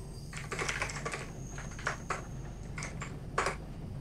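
Typing on a computer keyboard, close and steady, with irregular key clicks and a few sharper taps running over a low constant hum.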